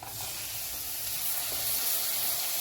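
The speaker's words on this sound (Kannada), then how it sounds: "ಇದೊಂದು ಸ್ವಲ್ಪ ಫ್ರೈ ಆಗಲಿ. ಇವಾಗ ಇದು ಫ್ರೈ ಆಗಿದೆ. ಟೊಮಟೋನ ಅದಕ್ಕೆ ಹಾಕೋಣ." Chopped tomatoes frying in a hot pan give a steady, close hiss of sizzling that holds evenly throughout, with no talking.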